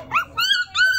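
A dog at home gives three short, whiny growling yelps in quick succession, close and fairly loud, with no talk over them.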